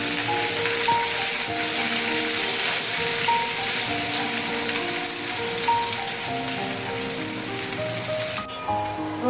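Whole garam masala and onions fry in hot oil in a pan, a continuous dense sizzle and crackle that stays loud and close throughout, with faint tonal clinks over it.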